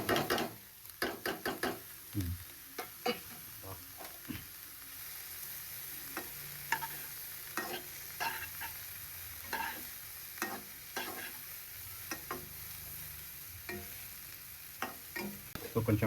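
Green chillies frying in a pan for home-made noodles, a low steady sizzle under repeated knocking and scraping strokes of a spoon stirring, close and without talk.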